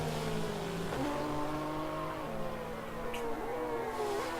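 Race cars in a GT racing video game roar past with engine whine, shifting pitch as they accelerate and change gear, steady and fairly faint throughout with no talk.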